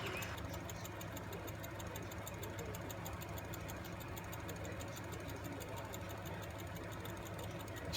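A small Watt Victor model steam engine with a rebalanced flywheel runs steadily, giving a faint, even rhythmic clatter throughout with no talking.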